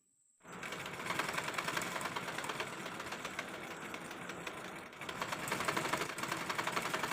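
A sewing machine runs continuously and close by, double-stitching around the neckline of a churidar, with a rapid mechanical chatter and a brief dip partway through before it resumes at full pace.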